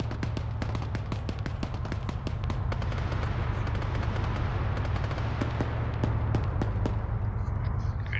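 Gunfire in the Arma military sim during a Marine beach landing, rapid sharp shots and bursts crackling at a moderate distance over a constant low engine rumble, steady throughout.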